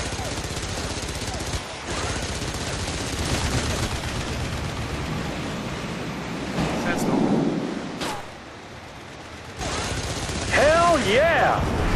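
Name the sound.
gunfire from guns in TopGun Hard Lock video game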